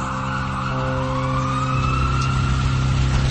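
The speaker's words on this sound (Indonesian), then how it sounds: "Suara sirine ambulans terdengar sangat jelas di telingaku" A wailing ambulance siren sweeps over a steady engine rumble, loud and continuous as if from a passing emergency vehicle.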